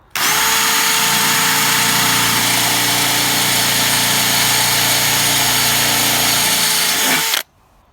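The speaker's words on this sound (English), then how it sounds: "Okay, I've done 3mm, now 5mm." A power drill bores a 5mm hole through a Land Rover Freelander 2 front light guard area, one loud steady whine running about seven seconds and then cutting off abruptly.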